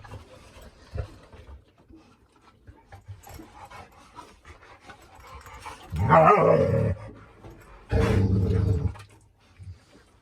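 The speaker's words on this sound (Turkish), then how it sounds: "Evet Lady kükredi arkadaşlar" A large dog lets out two loud, gravelly roar-like growls a couple of seconds apart, close by, with quieter panting and shuffling noises around them.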